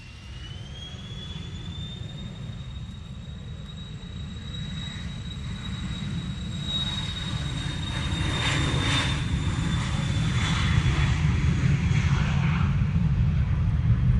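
A Cessna Citation business jet passes at Manchester Airport, its steady jet roar and high engine whine building slowly and growing louder as it nears.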